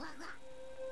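Hat the duck from the visual novel If My Heart Had Wings gives one short quack, near and clear, over soft background music.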